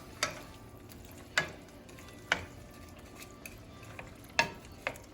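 Extra large shrimp being stirred into a cooking pot, with a few sharp, separate clacks of a utensil against the pot spaced about a second apart over a soft, low simmering background.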